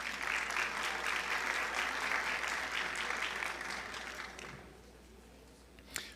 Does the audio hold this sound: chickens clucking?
no